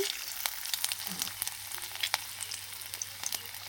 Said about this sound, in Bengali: পেঁয়াজ কুচি, কাঁচা লঙ্কা কুচি দিয়ে ভালো করে ভেজে নেব